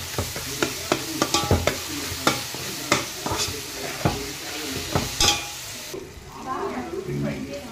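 Ginger, garlic, green chilli and coriander paste sautéing in a pan for pav bhaji, with a loud sizzle under repeated sharp spatula scrapes and taps, the scraping easing off near the end.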